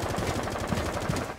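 Rapid automatic gunfire in Rainbow Six Siege, a fast close burst of repeated shots lasting throughout with no pauses.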